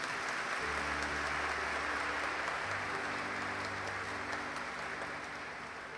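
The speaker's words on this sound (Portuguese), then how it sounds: "Não merece uma salva de palmas esse moço?" An audience applauds a young man after a dramatic poetic recitation, a steady wash of clapping that holds for several seconds and slowly thins, with low hum and faint voices underneath.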